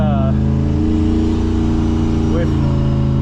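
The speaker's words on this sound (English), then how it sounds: "So here's the Turbo GMC working here." A turbocharged GMC pickup pulls a trailer carrying a heavy truck, giving a loud, steady engine drone and road rumble with a brief whistling rise. Someone speaks over it.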